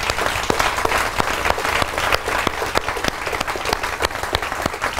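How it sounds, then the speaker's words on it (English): A crowd at a Forever Living India business opportunity seminar gives a big round of applause, steady dense clapping with sharp individual claps standing out throughout. "let's welcome them with a huge round of applause."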